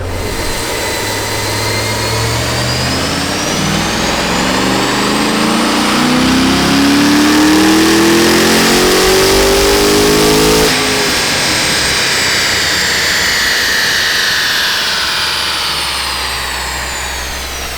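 A Stage 4 ZL1 Camaro with a clutch, catch can and muffler flap mod revs hard and steadily for a long, loud, rising pull, its pitch climbing before easing back down into a lower roar.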